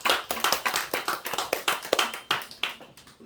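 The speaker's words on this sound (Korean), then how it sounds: "우리 하나님께 박수, 감사의 영광의 박수 드리겠습니다." Congregation at a Sunday church service claps in rhythm: a steady run of sharp, evenly spaced claps, moderately close and fairly quiet overall, with no talking.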